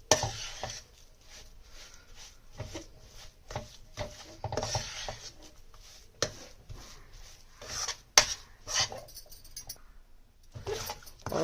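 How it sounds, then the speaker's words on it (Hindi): A spoon scraping and stirring a semolina and milk mixture in a pan over a low flame, soft repeated rubbing and clinking strokes at a quiet, close level. "आपको इस तरीके से इसमें चम्मच घुमाते रहना है"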